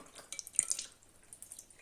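Heather honey tea is poured into a cup, giving a few soft, close trickles and light drips in a brief burst before tapering off, quiet and without talk.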